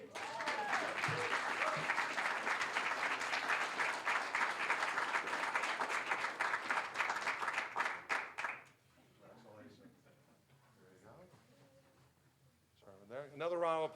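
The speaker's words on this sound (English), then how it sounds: "Another round of applause for Melanie." Audience at a university idea-pitch award ceremony breaks into loud, sustained applause for about eight seconds, many hands clapping densely before it fades out, after which a voice talks over the quiet room.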